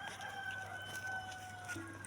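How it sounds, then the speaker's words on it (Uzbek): A rooster in a farmyard after rain crows clearly at moderate distance, a drawn-out call over a steady low hum, with no talking. "Voy, xo'roz voy."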